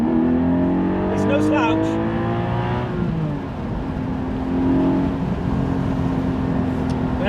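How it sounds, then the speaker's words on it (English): A Porsche 718 Spyder accelerating hard along a road, its engine note climbing steadily through the revs and then settling into a sustained drone, loud and close, with a brief spoken comment early on. "Just going to take a bit of a blast up this stretch here."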